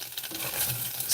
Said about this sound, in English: sizzling a wiener